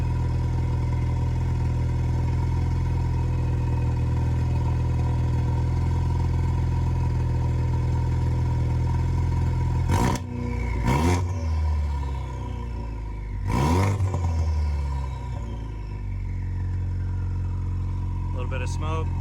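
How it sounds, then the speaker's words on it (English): A Ford Focus RS idles steadily right after a downpipe install, then revs sharply three times: two quick blips close together, then a third. Each rev rises and falls quickly before settling back to a low, even idle. "Give it a little rev."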